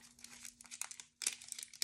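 Paper crumpled by hand in two bursts of close, crisp crinkling and rustling, with a short pause between, during a cosmetology blood spill cleanup with bandage wrappers.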